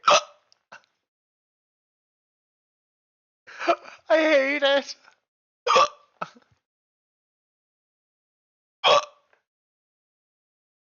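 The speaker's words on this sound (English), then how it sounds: "I'm so over these hiccups." A person gets a few sharp, isolated hiccups, spaced seconds apart in a quiet room, with a brief spoken line in between.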